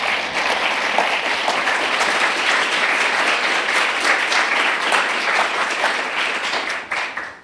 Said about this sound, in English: maybe a round of applause for the entire team